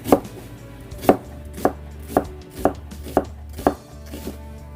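Half an onion being chopped with a knife for a Korean garlic scape side dish: about nine crisp, evenly spaced chops land roughly every half second, close and clear, with no talking.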